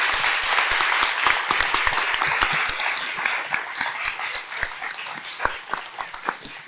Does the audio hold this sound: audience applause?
yes